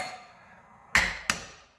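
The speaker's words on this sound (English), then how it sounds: "by hammering behind this" Two sharp metallic hammer strikes on a big screwdriver driven behind the brake dust shield of a 2004 Toyota Prius during wheel bearing repair, close and loud, about a third of a second apart, each ringing briefly.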